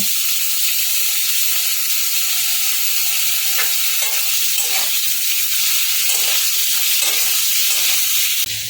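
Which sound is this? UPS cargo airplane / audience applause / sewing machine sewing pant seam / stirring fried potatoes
stirring fried potatoes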